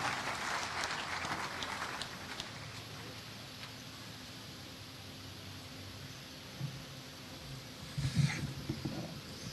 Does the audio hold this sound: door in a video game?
no